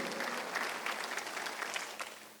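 Church congregation applauding during a Sunday worship service, a broad, continuous wash of clapping from many people in a large room, fairly faint and steady with a few sharper claps standing out.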